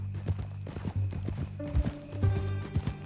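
Horse hooves clip-clopping in Red Dead Redemption 2, a quick close run of hoofbeats with a brief whinny-like tone partway through, fairly soft and heard alone.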